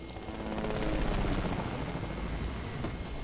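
Helicopter in a battle-royale video game, a steady broadband rotor whir and hum at moderate level throughout, with faint chopping texture and no speech.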